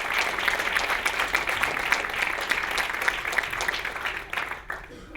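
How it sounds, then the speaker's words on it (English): A keynote audience at a sexual freedom summit applauds together in a dense, sustained wash of clapping that holds steady, then thins and fades toward the end. "look around the room and applaud every one of you"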